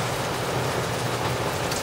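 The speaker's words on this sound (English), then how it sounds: "It's raining like mad outside." Heavy rain pours outside as a dense, steady hiss that stays even and loud throughout, with no voices over it.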